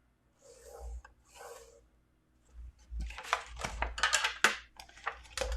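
A bone folder scores a line across paper card stock for gift-wrapping a wine bottle: two short, soft rasping strokes, a pause, then a quicker run of close, scratchy scraping strokes.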